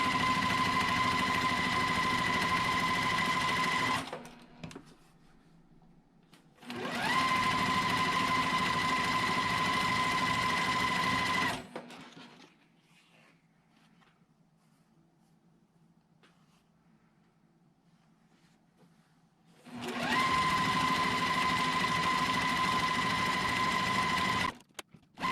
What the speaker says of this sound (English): I'm going to stitch on each side of that line.